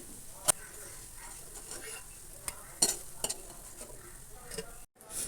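Cashews roast in a kadai with a soft, low sizzle, broken by a few sharp spatula scrapes and taps before a brief drop to silence near the end.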